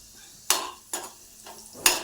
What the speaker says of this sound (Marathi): आता आपण मसाला भाजून घेऊ थोडंसं आपण तेल टाकून घेऊ